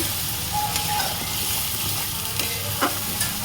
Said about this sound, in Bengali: মশলাটা ভালো করে কষে চিকেনটা দিয়ে দেবো